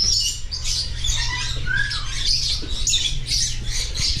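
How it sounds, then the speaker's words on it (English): Caged birds in a pet store, parakeets among them, squawk and chirp in a busy, continuous chorus of sharp calls, close and fairly loud, with no talk over them. "Look at all these birds."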